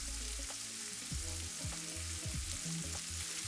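Mushrooms and kale fry in a pan for a chicken quesadilla, a dense continuous sizzle with faint scraping and stirring knocks throughout, no talking.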